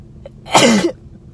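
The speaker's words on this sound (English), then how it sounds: "Jeez, that always makes me sneeze." A single sharp sneeze right after a COVID nose swab, close and loud, with a brief breathy intake before it and quiet afterward.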